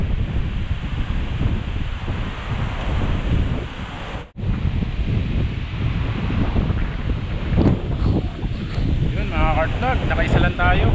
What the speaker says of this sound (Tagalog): Grabe, napakalakas ng hangin ha.